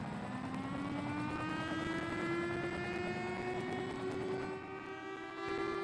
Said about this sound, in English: So hopefully it's sent helicopters. Yeah, I can hear them.